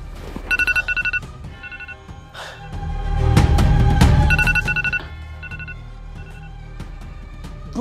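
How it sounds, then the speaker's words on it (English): A phone alarm ringtone chimes in repeated bursts of bright electronic tones, pausing while a loud rumbling swell rises and fades, then the ringing resumes. "Your alarm is ringing!"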